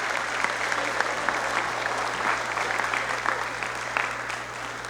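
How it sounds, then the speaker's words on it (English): An audience at a high school scholarship night applauds the school's string orchestra, a sustained, moderately distant wash of clapping over a steady low hum. "How about a round of applause for Mr. and Mrs. Kaczmarek and the Everett High School String Orchestra."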